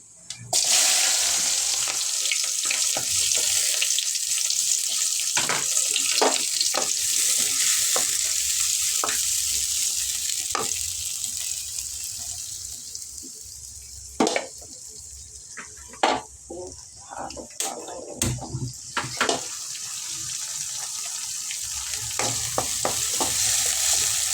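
Mustard seeds fry and sizzle in hot oil for a cabbage and peas stir-fry, a steady hiss punctuated by sharp pops and crackles that grow more frequent toward the end, with occasional stirring clatter.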